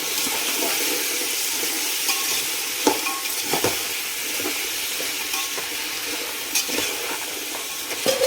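Frozen peas, potato, beans and carrot stirred in a hot pan, a continuous sizzle of frying vegetables with scattered scrapes and clinks of the spoon against the pan, close and steady.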